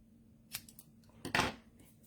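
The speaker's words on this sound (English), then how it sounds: "I'm just going to take my scissors" Scissors snip through a paper strip, a light cut followed by a louder, sharper snip a moment later, close and otherwise quiet.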